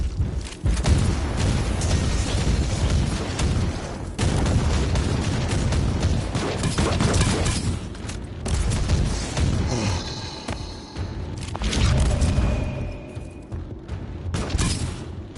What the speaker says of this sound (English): God, that explosion is nice.